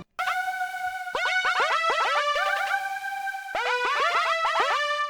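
A synthesized cello-like tone plays a quick run of notes, each note starting with a slight pitch slide, bright and steady throughout.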